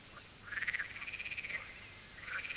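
Frogs croak in spring or summer, a rapid pulsing trill that rises and holds, then returns after a short pause against a quiet background.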